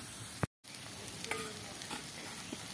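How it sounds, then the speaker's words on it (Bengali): Greens hiss quietly as they dry-fry in a pan, a low steady sizzle with a brief break near the start and faint stirring scrapes. "শাকটাকে আর একটু শুকিয়ে নেব। আর একটু শুকনো করে নেব।"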